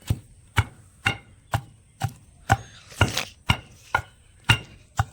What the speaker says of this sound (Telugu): ఓకేనండి, ఈ విధంగా దంచుకుంటారు